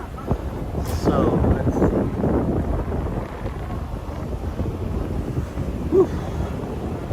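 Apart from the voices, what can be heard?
wind blowing into microphone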